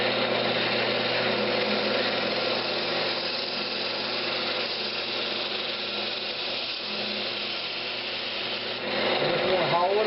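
A spindle gouge hollows the top of a Brazilian cherry wood lidded box spinning on a lathe, giving a steady scraping hiss over the motor's constant hum, close and even throughout.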